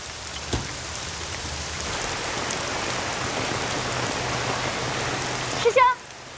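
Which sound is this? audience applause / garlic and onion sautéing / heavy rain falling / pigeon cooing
heavy rain falling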